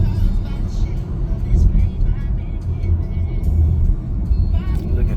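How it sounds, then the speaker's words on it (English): Road traffic rolls by during a drive, with cars passing and a steady, rumbling engine and tire noise that swells and eases, close and continuous throughout. "More traffic."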